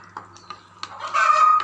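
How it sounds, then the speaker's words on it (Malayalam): Chickens calling and clucking nearby in a short burst, with brief rising calls that build into a louder, sustained squawk near the end; no talking. "കോഴിയെല്ലാം കൂടെ കിടന്ന് വിളിക്കുന്നുണ്ടെന്ന് വെച്ചാൽ"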